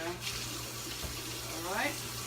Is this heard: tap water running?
yes